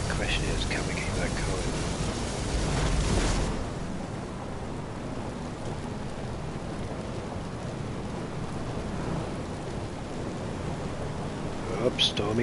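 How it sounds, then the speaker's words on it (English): Thunderstorm with steady rain over stormy, choppy seas in the game FAR: Changing Tides, a loud rumbling burst in the opening seconds giving way to a continuous dense rain wash with a brief crackle near the end. "Up, stormy, choppy seas again."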